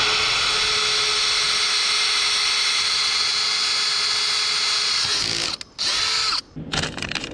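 A power drill enlarging a hole while fitting a Maxton Design side splitter diffuser on a 2015 Lexus RC F, a loud steady high whine held for several seconds, then broken into short stop-start bursts at the end.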